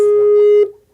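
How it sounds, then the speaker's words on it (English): A Skype call ring sounds as one loud, sustained electronic tone lasting most of a second, then cuts off and fades. "we need to answer that Skype phone, please"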